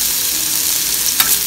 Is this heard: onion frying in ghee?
yes